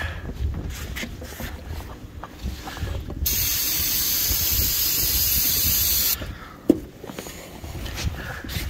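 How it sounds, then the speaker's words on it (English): A long, steady hiss of an aerosol can spraying ether toward an engine's air intake for about three seconds, framed by quieter mechanical clicks and handling noise. "I could just spray ether in, and it went all the way to the air cleaner."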